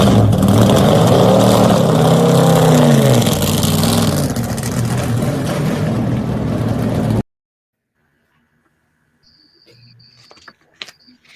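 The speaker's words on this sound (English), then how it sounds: "I have a video here from one of the tests. I don't know if it was day 1 or day 2, but this engine sounds bah." A race car engine revving loudly during a test session, its pitch climbing and falling for several seconds before it cuts off into near silence with a few faint distant sounds.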